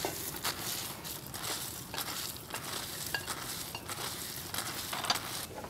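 Peanuts with skins rubbed off being tossed and stirred with seasonings in a bowl, a steady close rustling and scraping that runs continuously for several seconds with no talking.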